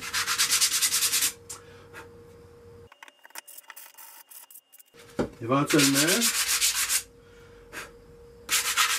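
Rhythmic rasping strokes of hand sanding on small wooden card-box pieces come in bursts, separated by quiet pauses and a brief scraping squeak, close and fairly loud, with no talking.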